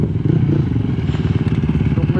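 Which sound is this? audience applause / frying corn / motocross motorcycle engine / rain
motocross motorcycle engine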